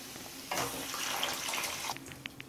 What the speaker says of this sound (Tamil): நான் வந்து இதிலே 2 கப்பு தண்ணி சேர்த்துருக்கேன்